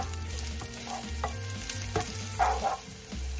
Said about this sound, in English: Then stir fry the onion for 3 minutes.